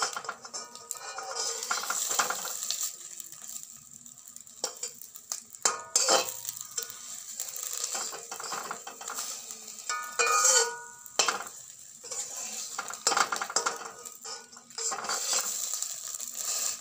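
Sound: frying breakfast snack in a pan, flipping it over

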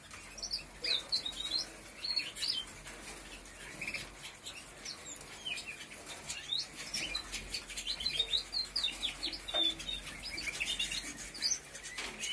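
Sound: birds chirping

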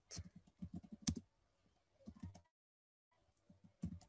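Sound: typing a name on a computer keyboard in Excel

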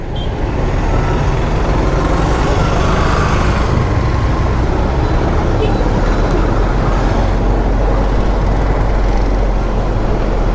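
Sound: heavy road traffic at school closing time in town

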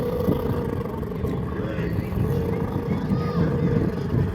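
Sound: misfiring boat engine

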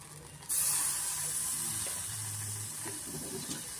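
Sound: butter sizzling as it is added to a hot pan

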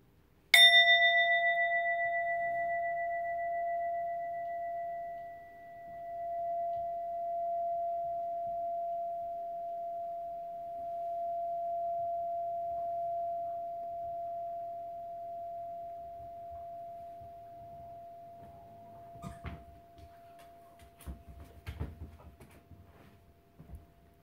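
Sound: bell ringing and fading out

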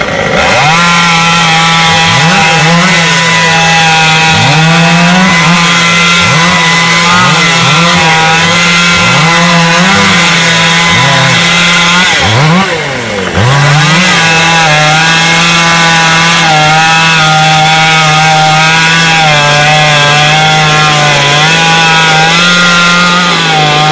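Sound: sawing a khaya tree branch

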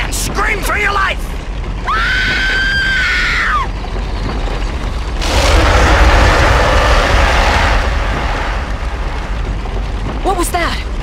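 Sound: Anne screaming on film set, King Kong video game

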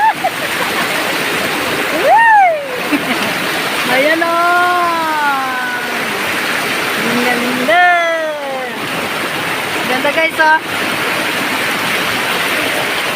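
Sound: waterfall water splashing at Canding Falls

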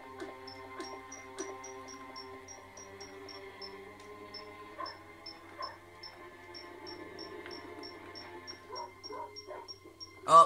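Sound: dog barking in Chicken Run PS1 video game

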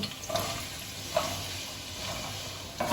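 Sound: carrots added to hot oil, frying

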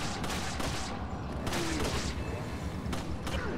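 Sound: pistol shots in the video game Resident Evil 4

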